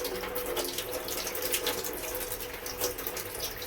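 Water running steadily from a tap or hose, a continuous splashing wash with no voices, as someone drinks and bathes.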